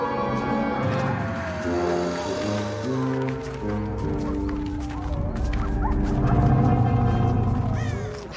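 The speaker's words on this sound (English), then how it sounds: "Howling is louder." Wolves howl in an animated film, several animal voices rising and falling close by over a busy music-and-effects soundtrack, the calls mixing with yips and whines.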